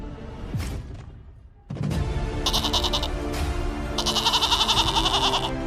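A goat bleats loudly and close, several drawn-out wavering cries in quick succession, with a thump and a rustle before them.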